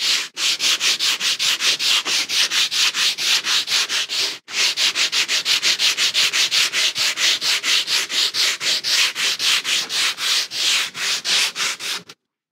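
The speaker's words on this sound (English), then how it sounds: "I'm just going to run a bit of sandpaper through that as well to help to clean up the sides a bit" Sandpaper worked by hand over the sides of an old wooden workbench, a close, rhythmic scratchy rasp of steady back-and-forth strokes with one brief break, no voices.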